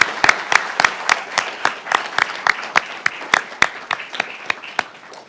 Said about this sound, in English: So I want to pause and give all of you a round of applause.